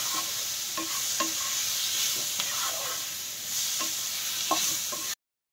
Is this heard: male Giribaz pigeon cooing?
no